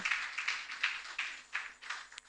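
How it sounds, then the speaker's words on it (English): An audience at an indoor panel event gives a round of applause, a thin, fairly faint patter of scattered hand claps rising and falling in bursts. "Please give her a round of applause."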